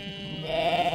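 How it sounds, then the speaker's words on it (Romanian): Carpathian bălane goats bleating at a sheepfold beside a forest, a single drawn-out, wavering bleat rising after a short stretch of low background noise, fairly close and clear. "Interesante caprele astea, bălanele astea."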